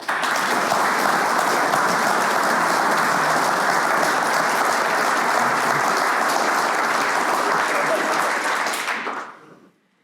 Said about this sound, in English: give a big Harper Adams round of applause for our panel